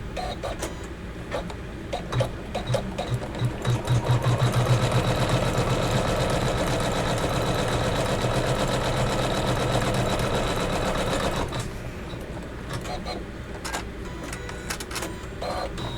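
A sewing machine runs a long continuous stretch of stitching along a quilt's inner border strip, a dense rapid whirring hum, close and steady, with slower starts and stops at either end.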